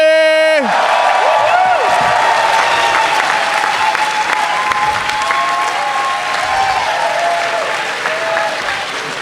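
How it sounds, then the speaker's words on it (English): Loud, sustained applause and cheering from a convention panel audience for Power Rangers actress Karan Ashley at Power Morphicon 2018, dense clapping with whoops running steadily throughout, following a brief musical sting at the start. "Ladies and gentlemen, start clapping your hands right now."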